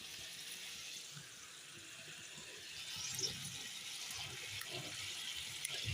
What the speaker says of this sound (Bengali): দেখো এখন ফুটতে শুরু করে দিয়েছে